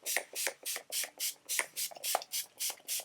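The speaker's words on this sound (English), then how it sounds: "This is my all-nighter spray from Urban Decay." Urban Decay All Nighter makeup setting spray fired in a steady run of about a dozen short, crisp pump spritzes, evenly spaced and close, with no talking.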